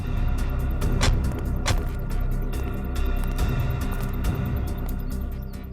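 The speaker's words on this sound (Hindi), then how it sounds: "एसीपी साहब की गाड़ी।" A police ACP's car approaches, its engine rumbling steadily and drawing nearer over a few seconds, with low road noise and no voices.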